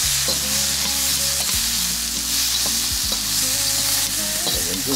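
A pot of herbs and nettles stirred on the stove, with steady sizzling and scraping strokes repeating through the whole stretch, close and fairly loud.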